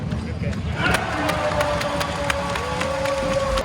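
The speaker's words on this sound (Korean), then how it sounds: "종이가 이렇게 널브러져 있길래 뭔가 싶었는데 이렇게 해가지고 박수 치는 거예요" Basketball crowd at a Bayern Munich versus Würzburg game in a German arena, clapping with paper sheets: a steady, loud crowd roar with crisp repeated slaps and cheering, plus someone talking over it.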